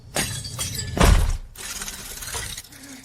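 A crown shatters with a loud, close burst of breaking glass near the one-second mark, preceded by sharper clinks and followed by a scattering tinkle of fragments that fades out.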